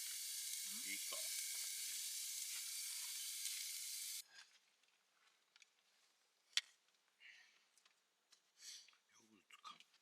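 Garlic and green onions grill over a campfire in a Japanese-made mesh fire pit at a rainy Aomori campsite, a loud steady sizzle for about four seconds that cuts off abruptly, leaving faint clicks and brief murmured talk.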